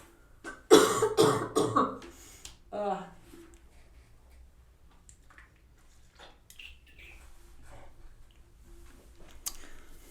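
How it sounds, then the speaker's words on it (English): A burst of several loud, harsh coughs close to the microphone, followed by quiet talk. "Oh, my bloody cough, sorry."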